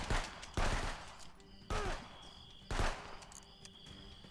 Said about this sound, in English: What do you shoot? Two bullets out of this gun at once?